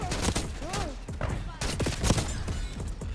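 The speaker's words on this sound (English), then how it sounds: "my shotgun's powerful up close" Rapid gunfire from an ASG 89 shotgun in the video game Black Ops 6, several sharp blasts close together over a dense mix of in-game effects and a talking voice.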